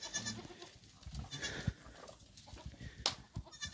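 Dairy goats bleat on a farm pen in Dois Riachos, Alagoas, several overlapping close-up bleats and calls amid shuffling livestock noise at a fairly low level.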